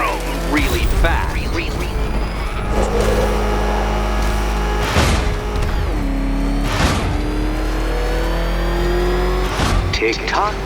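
Batmobile in the game Batman: Arkham Knight, its engine droning and revving with rising and falling pitch and a few sharp whooshing bursts, loud and continuous, with someone talking over it.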